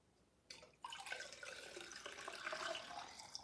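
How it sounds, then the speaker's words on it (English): Homemade apple cider vinegar juice poured through a cloth strainer into a container, a steady close liquid splash and trickle starting abruptly and running continuously to the end. "Let me pour this juice in here."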